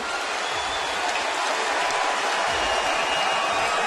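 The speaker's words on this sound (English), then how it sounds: "Standing ovation from this crowd here at Amway" A large arena crowd at Amway gives LeBron James a standing ovation during an NBA game, a steady, dense roar of applause and cheering that holds at full strength throughout.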